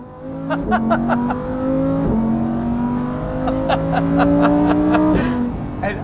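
A Lamborghini Huracan EVO drifts around a racetrack, its engine climbing loudly in sharp rising revs broken by quick gear changes, with tire noise and a voice shouting briefly over it.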